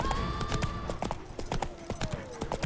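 Hooves of Roach, Geralt's horse in the video game The Witcher 3, clip-clop in a steady walking rhythm over ambient game music, with sparse faint voices.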